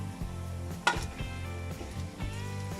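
Chicken pieces hit browned onions in a hot pan for a chicken and potato curry, giving a soft, steady sizzle with a brief clatter, quietly under faint background music.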